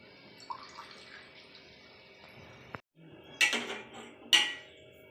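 Water poured into a cooking pot of basmati rice for chicken biryani, a steady hissing stream that stops abruptly, followed by a couple of louder splashing clatters near the microphone.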